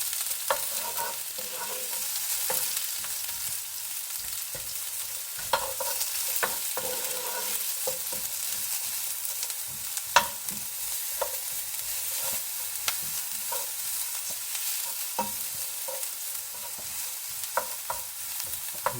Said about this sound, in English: we chuck in first the curry leaves, the onions. They go in first, just brown them off a bit